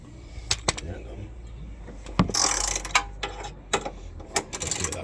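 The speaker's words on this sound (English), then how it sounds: "So again, I've just attached the spanner to it." Spanner ratcheting on a subframe bolt of a Mk2F VW Polo being tightened to 55 Nm, heard as a handful of sharp, close clicks spread irregularly through the clip, with a short burst of rapid clicking in the middle.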